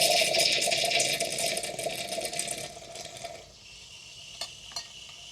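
A La Pavoni milk frother attachment on a Cappuccino Automatic frothing milk gives a loud, hissing, gurgling rush that fades after a few seconds into a quieter hiss, ending with a couple of faint clicks.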